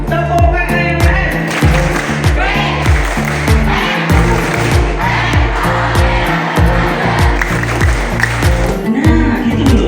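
A group of students at a camp clapping a rhythmic chant pattern together, sharp repeated hand claps in quick bursts and pauses, loud and close, with voices chanting along between claps.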